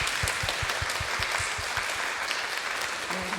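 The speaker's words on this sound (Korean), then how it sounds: "목사님께 다 같이 감사의 박수 올려드리겠습니다." A church retreat audience claps in thanks for a pastor, giving dense, steady applause across a full room. It sounds fairly loud and lasts for the whole stretch.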